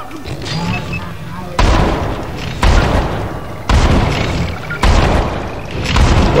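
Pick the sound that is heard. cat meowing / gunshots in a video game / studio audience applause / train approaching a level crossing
gunshots in a video game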